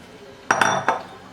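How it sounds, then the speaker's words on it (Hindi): Uncooked rice tipped into a microwave dish of vegetables for a quick veg pulao, giving a short run of three light clinks and a brief rattling spill against the dish, close and fairly quiet. "अभी हम सब्जियों में राइस डाल देंगे।"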